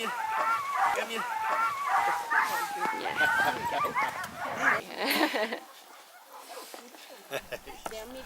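Sled dog puppies in Norway yip, whimper and bark in quick excited bursts close by, while people talk and call to them over the noise.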